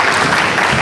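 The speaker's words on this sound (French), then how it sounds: "Des applaudissements pour le conférencier." Audience at a university conference clapping for the lecturer, a brief burst of dense, steady applause filling the room without any voices.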